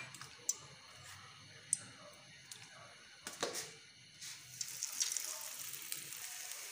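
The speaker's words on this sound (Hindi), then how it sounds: "अब इसको हम करेंगे डीप फ्राई।" Spring potatoes coated in masala deep frying in hot oil, giving a steady soft sizzle with scattered crackles and pops, close and fairly quiet with no talking.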